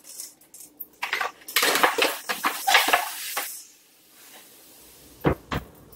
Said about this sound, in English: let's go ahead and put it in the oven at 375